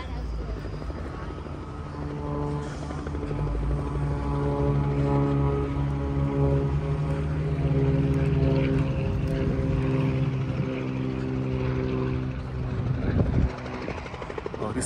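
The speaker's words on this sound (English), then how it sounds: "over to the right, you have some jet aircraft performing" Steady, droning aircraft engine and rotor noise at the Oshkosh air show, a loud continuous hum with layered harmonics, from jet aircraft performing nearby.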